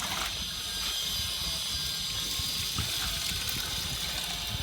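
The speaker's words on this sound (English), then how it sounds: "So I am pouring this water now." Water gushes steadily into a plant container on a terrace garden, a continuous splashing rush with a faint hiss over it, close by and fairly loud throughout.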